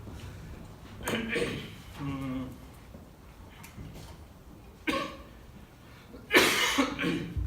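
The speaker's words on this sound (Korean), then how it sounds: "제가 감기가 걸려서 계속 지난번부터 계속 기침을 해서 너무 죄송합니다." Several harsh coughs come in bursts, spaced a second or two apart, close to the microphone with no other sound between them.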